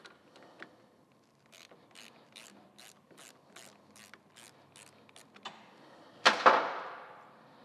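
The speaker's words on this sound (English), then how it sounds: "I'm just gonna go ahead now and just pull this shifter arm off with a half inch wrench" A half-inch ratchet wrench clicks in a quick, regular run of sharp ratcheting pulses while removing a motorcycle shifter arm, followed by a louder metallic clank and rattle as the part comes free.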